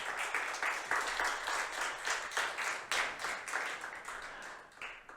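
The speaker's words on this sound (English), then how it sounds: "So a round of applause for the translators." A forum audience applauds the sign language translators with sustained, fairly loud clapping that swells in waves over several seconds, with no speech over it.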